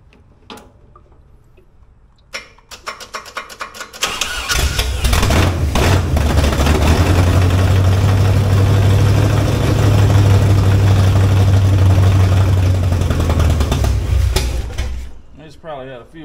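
An old-school truck engine cranks with a few clicks, catches and runs loudly with a steady deep rumble for about ten seconds, then shuts off.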